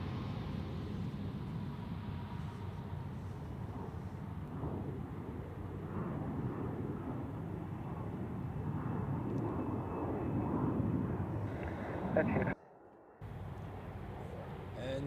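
An Aegean Airlines airliner in from Athens comes in to land at Zurich Airport, a steady, loud, broad engine roar with wind buffeting the microphone, briefly cut out near the end.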